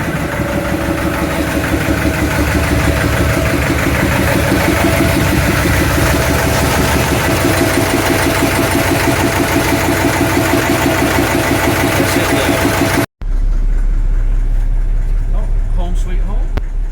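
Narrowboat engine running during a maiden voyage, heard from near the engine room as a loud, steady diesel drone with a constant low throb, cutting out abruptly near the end before a quieter low rumble returns.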